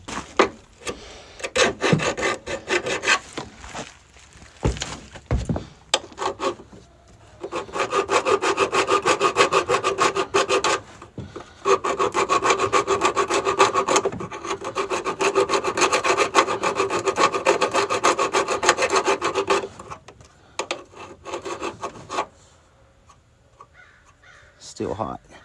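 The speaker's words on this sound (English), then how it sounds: "there's going to have to be a little bit of filing done right there" A metal file rasps on an S10 Blazer door pin bushing in long, rhythmic back-and-forth strokes, close and gritty, with pauses between bursts of filing.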